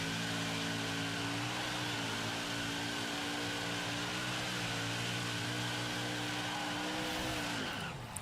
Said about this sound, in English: so I had to floor it to pass that 4-car Harvick